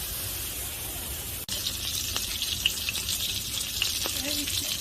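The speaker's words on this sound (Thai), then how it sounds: "เราจะเจียวให้น้ำมันของหมูออกมาก่อน" Pork fat renders in hot oil, giving a constant close, loud sizzle with a brief cut in the middle and a few small pops and clinks scattered through.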